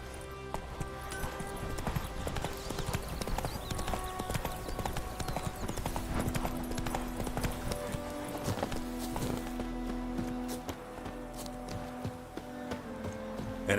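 Horse hooves clip-clopping in The Witcher 3, a close, steady run of hoof beats over music-like tones, with a brief whinny and faint background sounds.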